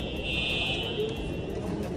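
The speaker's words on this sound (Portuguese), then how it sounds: "Nós estávamos no aeroporto e do nada começa a tocar esse alarme." A building alarm rings out in an airport as a steady, high, continuous electronic tone held over a low hum of the hall.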